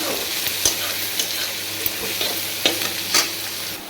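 Vegetables with carrot stir-fry in a pan, giving a loud, continuous sizzle with occasional sharp clicks from a spatula and a low steady hum underneath.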